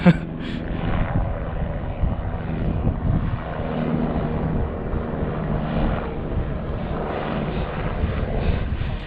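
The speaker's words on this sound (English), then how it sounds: "I'm shooting at the helicopter." A helicopter engine drones steadily and loudly throughout, a constant whirring roar with no voices, flying below the listener in the Everest region of Nepal.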